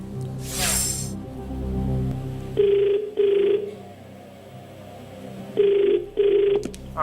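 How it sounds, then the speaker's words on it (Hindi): A telephone rings in two paired bursts separated by a pause, clear and close, after a brief hiss at the start, on the TV quiz show Kaun Banega Crorepati. "वैभव शुक्ला, रायपुर में फोन लगाया जाए"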